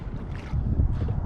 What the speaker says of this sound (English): Gosh, is it windy.